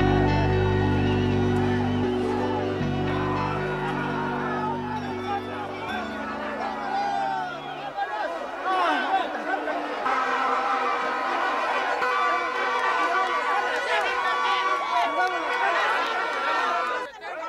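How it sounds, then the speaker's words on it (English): Dense crowd noise fills the streets of Guatemala during the presidential inauguration in the early hours, with steady loud chatter, scattered cheers and whoops, and a shifting mass of voices throughout. "This was the sound of the streets of Guatemala as new president Bernardo Arevalo took office in the early hours of January 15."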